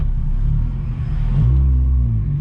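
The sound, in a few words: Honda Jazz car engine rumbling as driver sets off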